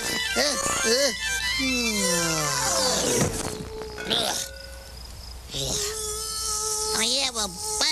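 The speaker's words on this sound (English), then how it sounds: "Hey, go away, Bumblebee." A cartoon bumblebee in a forest hums and buzzes in wavering, pitch-bending tones, with animated voices talking over it throughout.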